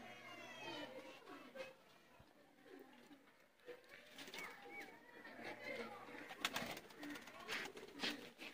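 Racing pigeons (kabootar) coo softly and at a distance in Pasrur, Sialkot, with low throaty calls repeating under nearby conversation and faint background chatter.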